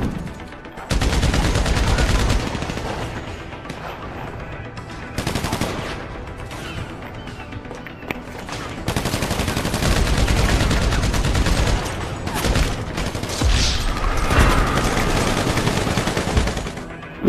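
Rapid sustained minigun fire in Battlefield 3 on a custom parkour map, dense rattling bursts that run for several seconds with brief gaps, loud and close, with no talk over them.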